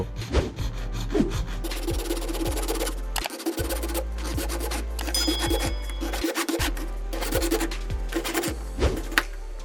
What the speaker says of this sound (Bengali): প্রথমত মেজারমেন্ট অনুযায়ী পাইপ কেটে নিতে হবে